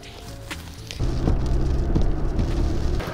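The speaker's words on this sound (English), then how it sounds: "the rain is absolutely torrential right now." Torrential rain pours down outdoors as a steady, dense hiss, becoming noticeably heavier and louder after the first second, with low rumbling underneath.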